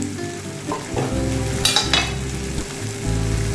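Garlic fries and sizzles in a pan for a dhaba-style arhar dal, giving a steady crackling hiss with a few sharper bursts and stirring clinks, close and fairly loud, no voices.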